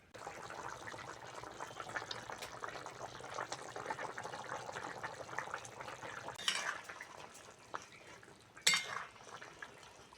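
Water pours into a pan of simmering country-hen egg curry, a steady broad wash of liquid noise with a few sharp clinks of a utensil against the pot, including a louder knock near the end.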